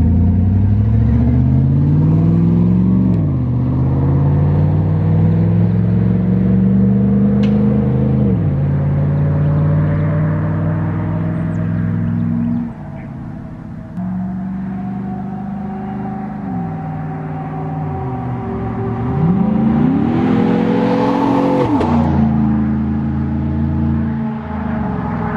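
A car engine with the muffler and resonator removed rumbles loudly and raspily, revving up and down several times between steady idling stretches, close by with no voices.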